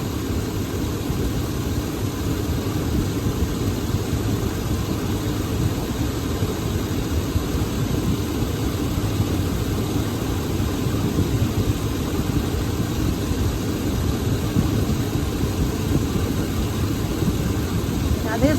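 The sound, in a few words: 5.3 V8 engine running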